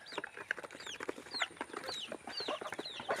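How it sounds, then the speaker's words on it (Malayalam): Chickens and ducks clucking and quacking together at feeding time on a small farm, a steady busy chatter of many birds close by, with no talk. "താറാവിനെ കൂട്ടിക്കൽ, കോഴിനെ കൂട്ടിൽ, എല്ലാവരെയും കൂട്ടിക്കയറ്റുന്ന സമയമാണിത്"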